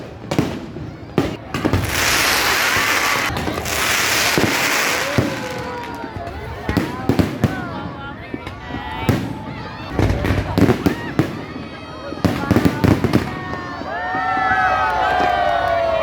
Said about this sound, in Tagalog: Hindi ko naman alam, may pa-fireworks pala si Mayor.